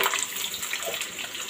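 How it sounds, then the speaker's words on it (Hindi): Potatoes dropped into hot cooking oil, frying with a steady, dense broadband sizzle that stays loud and continuous throughout, with no talk over it. "तेल हमारा गर्म हो गया फ्रेंड्स, इसे मैं डाल दूँगी, दोनों साथ में डालूँगी आलू और ये"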